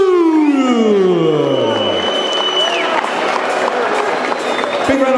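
Boxing arena crowd cheering and applauding after a first-round TKO, a loud continuous roar with rising and falling whooping tones, while an announcer's voice carries over the noise.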